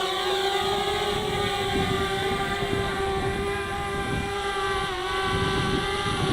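A DJI Spark mini drone takes off outdoors near a field, its propellers giving a steady, close, high-pitched whine with a constant drone tone and no one speaking.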